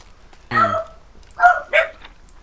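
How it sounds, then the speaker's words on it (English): Hunting dogs barking in the video game The Hunter: Call of the Wild: one sharp bark followed by two quick, higher yaps, clear and fairly close against a quiet background. "Hear my dogs. Yeah,"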